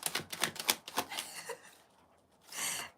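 A deck of playing cards is shuffled over and over, a quick run of crisp riffling bursts up close, a short pause, then one last brisk riffle.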